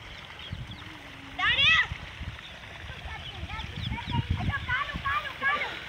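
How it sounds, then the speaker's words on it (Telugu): Water gushes and splashes from a village borewell outdoors, a steady wash of noise with brief louder bursts, while children's excited voices and chatter carry over it. "ఇక్కడ బోర్లో వాటర్ రావడం వల్ల వాళ్ళ ఎంజాయ్కి అవధులు లేకుండా అయిపోయింది"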